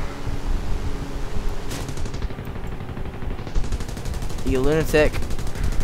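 Gunfire in the video game War Thunder, a rapid, continuous rattle of shots at close range, with a brief spoken exclamation near the end.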